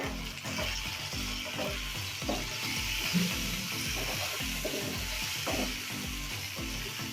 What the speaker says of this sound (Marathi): सगळे मसाले आपल्याला हाय फ्लेम गॅसवरच परतून घ्यायचे आहेत।